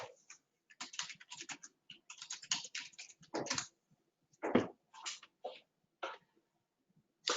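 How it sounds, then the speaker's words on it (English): A computer keyboard being typed on in quick, uneven bursts of close clicks separated by short pauses, with no speech. "I'm going to have him type it and send it to me."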